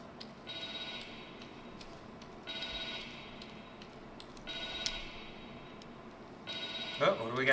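A telephone ringing inside the horror video game The Evil Within 2, four evenly spaced electronic rings with pauses between, steady and moderately loud under game ambience.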